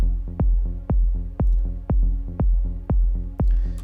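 A melodic, ambient-leaning music loop with a deep kick-like pulse about twice a second under sustained tonal pads, steady and even throughout with a faint bright shimmer toward the end.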